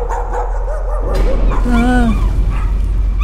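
A dog in the Layers of Fear horror game gives a short, close bark and then a high whimpering yelp, with a person's brief vocal reaction underneath.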